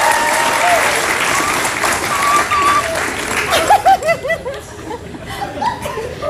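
A television studio audience bursts into sustained applause, with scattered chuckles and laughter rising as the clapping fades out.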